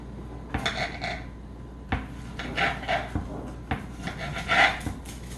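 A knife cuts through a fairly large tomato on a wooden board, giving soft, close, irregular thuds and scrapes with a few light clinks.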